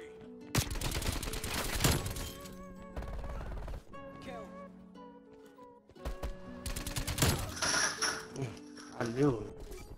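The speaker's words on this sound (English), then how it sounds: "I heard shooting, but..." Gunfire in Call of Duty Black Ops Cold War, a few sharp bursts of automatic shots separated by quieter stretches of game effects and tonal sounds, moderately loud with voices present.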